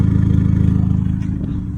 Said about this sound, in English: the car is idling perfectly fine now